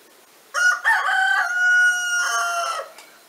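A sturdy rooster gives one loud, full crow, rising and then holding a long drawn-out note before trailing off, heard alone and close.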